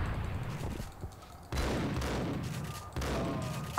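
Gunfire from the video game Max Payne rattles in dense, sustained bursts, with loud volleys that break off briefly and resume twice over a few seconds.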